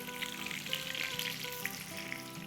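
Stuffed triple-layer kebabs fry in oil over a medium-low flame, giving a steady, dense sizzle and crackle that holds evenly throughout with no voices.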